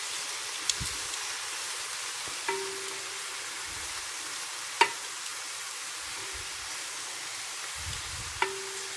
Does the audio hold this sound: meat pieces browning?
yes